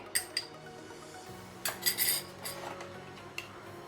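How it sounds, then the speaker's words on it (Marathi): Chopped chikoo pieces go into an ice cream base in a bowl, giving a few quiet, sharp spoon clinks against the dish with soft scraping between them. "चिकूच्या फोडी आईस्क्रीम बेसमध्ये घालते"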